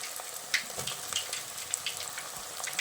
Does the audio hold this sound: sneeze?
no